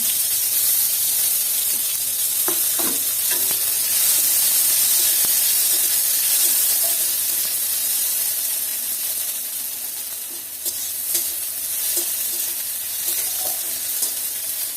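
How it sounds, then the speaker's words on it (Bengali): Grated tomato frying in a pan with bay leaves and dried chillies, giving a steady, close sizzle throughout, with a few soft stirring clicks and light scrapes scattered over it. "টমেটোটা অল্প ভাজা ভাজা হয়ে গেছে।"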